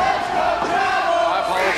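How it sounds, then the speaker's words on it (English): Arena crowd at a Chavo Guerrero versus Rey Mysterio wrestling match roars steadily with loud, sustained cheering and chanting, a dense wall of voices throughout. "Crowd is divided here tonight."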